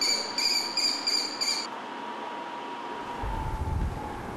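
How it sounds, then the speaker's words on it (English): Eaglets cheep in a nest at Dollywood, picked up by a nest microphone: a quick run of about five high, bright chirps, followed by a low rumbling background. "And you can hear them cheep, hear the birds call to each other."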